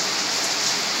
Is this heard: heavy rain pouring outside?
yes